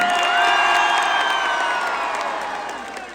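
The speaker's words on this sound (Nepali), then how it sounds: "एकपल्ट जोरदार ताली दिएर धन्यवाद दिनुहोस्" A concert crowd at a live show in Osaka, Japan, cheering with whistles and whoops over dense applause, loud at first and gradually fading.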